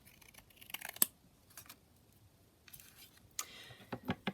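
Scissors trimming paper for a flip-down booklet: a few quiet, sparse snips and paper rustles separated by near-silence, with a quick cluster of cuts toward the end.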